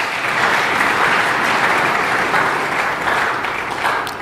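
A church congregation applauds and cheers in acclaim, a dense, steady wall of clapping and crowd noise that fills the space for the whole stretch without pause, with no single voice standing out.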